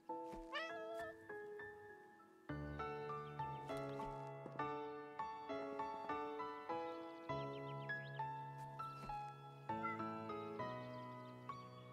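Cats meowing in the animal shelter video game Animal Shelter, a run of repeated, tonal meows over a continuous musical backing, near and fairly clear throughout.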